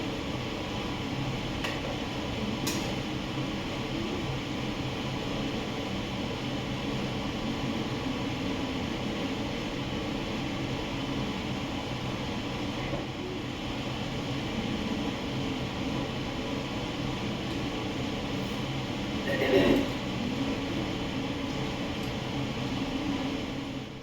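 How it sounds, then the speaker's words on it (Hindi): Bati dough balls frying in hot oil, a steady even hiss and sizzle that holds at a constant level throughout, with a brief louder clatter near the end. "तो गाइस बाटियाँ फ्राई हो रही हैं"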